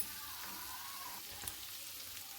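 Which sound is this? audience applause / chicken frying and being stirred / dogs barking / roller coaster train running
chicken frying and being stirred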